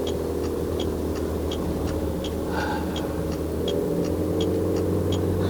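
A 2019 Proton Exora Premium drives uphill on the road to Genting in Malaysia, heard from inside the car as a steady low engine and road rumble, with a faint regular ticking like an indicator.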